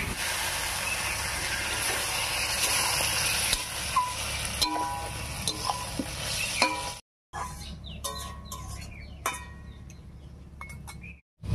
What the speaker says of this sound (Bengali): এবারে মশলা বাটা জল দিয়ে কষিয়ে নেব।